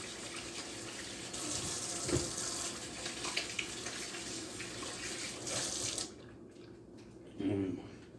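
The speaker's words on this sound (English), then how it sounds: "let's get one more hand wash going on" Water runs from a tap into a sink during hand washing before seasoning a brisket, a steady splashing stream that stops abruptly near the end, followed by a brief rinse-like rustle.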